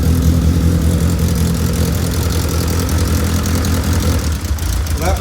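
A Caterham 7 engine idling close by, a loud, steady, low rumble with a fine rapid pulse that continues evenly throughout.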